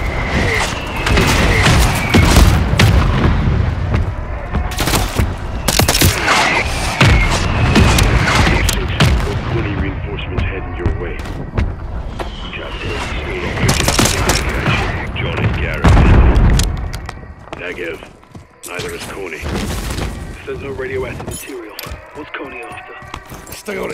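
Mortar strikes in Call of Duty Modern Warfare III, with repeated heavy booms and thuds plus bursts of gunfire across a dense, loud battle soundscape, under intermittent radio-style voices.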